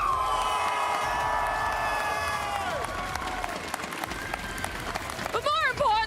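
A Valorant esports crowd at the VCT EMEA Stage 1 finals cheers and claps for Team Heretics in a large arena, a dense, steady roar sustained throughout with whistles and shouts rising near the end.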